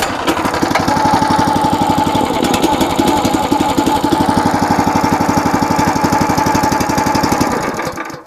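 The small engine on a Red Rock/Trencherman mini towable backhoe runs loudly and close with a fast, even, chugging rhythm, holding steady for several seconds before cutting off at the end.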